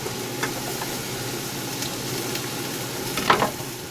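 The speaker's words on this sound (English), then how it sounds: "take a little spatula here and just keep stirring these around" Food fries in a pan with a steady close sizzle while a spatula stirs it, and a few brief scrapes stand out near the end. No voices are heard.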